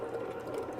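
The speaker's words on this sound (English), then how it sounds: "the bread machine will finish a little bit later because it's a little bit longer process and it's still mixing" A bread machine mixing dough gives off a steady, even motor whir with a faint rhythmic churn, continuous and unbroken at a moderate level with no voices.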